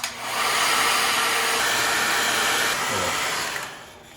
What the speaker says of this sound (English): do you think there's a hairdryer in here?